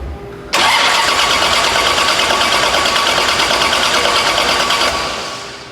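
A 632 cubic inch big block Chevy engine cranks and fires, then roars loudly and steadily at high revs for several seconds before starting to ease off.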